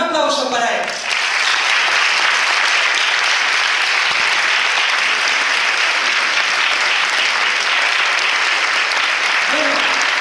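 Loud, dense audience applause for the singer at a live concert. The clapping begins after a brief moment of music and runs steadily to the end.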